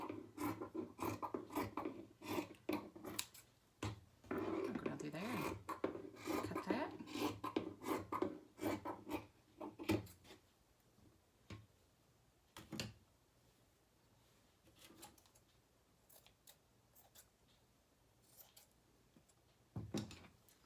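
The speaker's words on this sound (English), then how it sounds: "So we're just going to cut a strip right here off the end." Scissors cut a strip of fabric for a snowman craft scarf, a close, rasping run of repeated snips and rubbing for about ten seconds, then sparse scattered handling noises.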